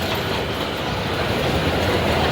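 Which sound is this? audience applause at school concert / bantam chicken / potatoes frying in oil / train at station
train at station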